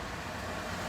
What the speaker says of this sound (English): there's a lot of cars driving around